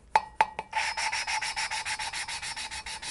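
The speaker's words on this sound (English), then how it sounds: "you can hear as the compound gets less gritty as it smooths out" A Harley-Davidson Shovelhead valve is lapped against its seat with gritty grinding compound: a few sharp initial taps, then a steady, rhythmic rasping scrape repeating rapidly back and forth, close and fairly loud with no talking.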